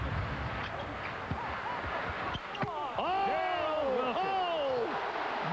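NBA arena crowd at an Orlando Magic vs New Jersey Nets game in Tokyo, murmuring with scattered ball bounces, then swelling into cheering and whooping after a big play; voices call out over the noise.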